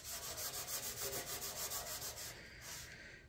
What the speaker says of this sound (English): I'm going to finish sanding this down, knocking the high spots off